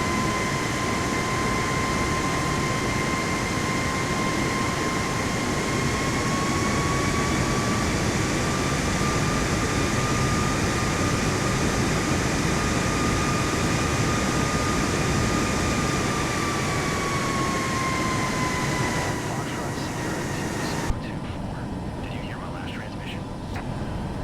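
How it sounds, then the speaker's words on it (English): A jet engine in Microsoft Flight Simulator 2024 throttles up with afterburner, giving a loud, steady roar with a high whine that rises slightly, holds, and then drops near the end. It sounds continuous and close, and nobody speaks. "Throttle up now. I'm going to reset the afterburner one more time here."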